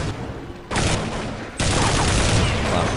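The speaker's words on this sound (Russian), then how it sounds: "Да, мы слышим стрельбу калашей." Rapid AK rifle fire in a competitive shooter video game crackles loudly and continuously, and the volleys grow heavier partway through, with no talk over them.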